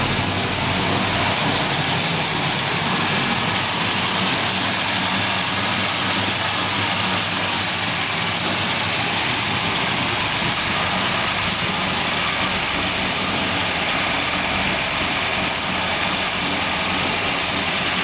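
A 1970 Buick GS with a 455 V8 and stage 2 heads runs at a steady, loud idle close by, its deep rumble continuous throughout with no speech over it.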